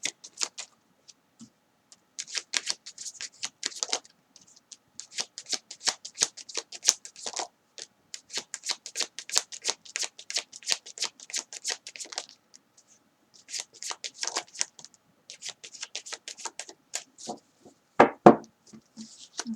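Tarot cards are shuffled in repeated quick bursts of crisp riffling flicks, close and clear, with brief pauses between bursts and one louder knock near the end, no speech.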